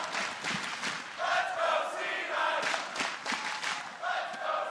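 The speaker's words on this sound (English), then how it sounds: "Crowd once again behind Cloud9 as they step onto the Rift." Large esports arena crowd at the 2016 League of Legends World Championship quarterfinals roars and chants continuously for Cloud9 as the team steps onto the Rift, a dense sustained wall of voices.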